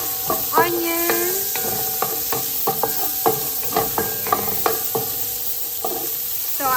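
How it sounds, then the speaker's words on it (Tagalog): Onion sautés in oil in a pot, a continuous sizzle broken by repeated metal spoon clinks and scrapes against the pot as it is stirred. "Nagdadagdag tayo ng konting oil to saute the vegetables. So, eto na. Unahin natin syempre yung onion."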